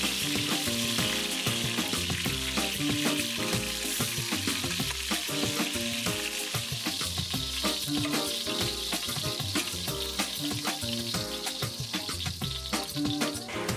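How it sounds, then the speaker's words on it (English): Pork browning in batches in a pot for tamale filling, a loud, steady sizzle of frying meat throughout with faint clinks and stirring sounds, no voices. "Start by browning the pork on both sides."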